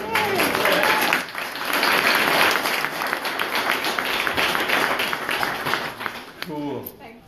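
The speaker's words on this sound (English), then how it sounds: "Special round of applause for Molly." Sustained applause from an audience at a book launch and reading, dense clapping filling most of the stretch before thinning out as a voice begins speaking near the end.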